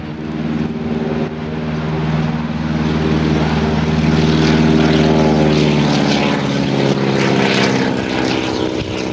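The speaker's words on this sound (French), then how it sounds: "Ce castor-là est un avion mythique, construit par des Canadiens et adopté par tout le continent américain." A de Havilland Beaver, the Canadian-built propeller floatplane, drones steadily in flight, its loud engine and prop hum holding a constant harmonic pitch that swells slightly midway, heard close from inside or near the aircraft with no talking.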